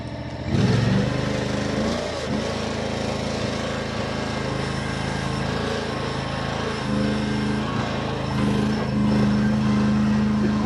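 A Derette DRT380 mini skid steer runs close by, its small engine droning steadily while it moves, pitch rising and falling as it revs, with a whining hydraulic tone near the end.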